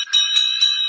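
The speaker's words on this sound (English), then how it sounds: "Stop ringing your bell, Toby!" A small handheld bell rings steadily with a bright, sustained metallic tone, struck about three times in under a second, close and fairly loud with no talk over it.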